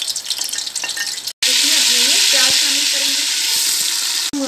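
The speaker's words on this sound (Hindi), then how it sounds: "इसमें हम सबसे पहले हम अपने साबुत मसाले डालेंगे और ज़ीरा, इनको हम हल्का सा भुनेंगे" Whole spices and cumin seeds frying in a cup of cooking oil for a mixed dal, loud close sizzling and spitting with a brief break and a few spoon taps against the pot.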